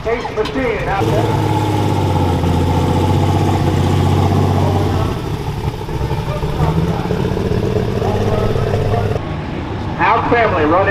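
A Case light super stock tractor idles with a steady, loud engine rumble at a tractor pull in Henry, Illinois, while an announcer talks over it.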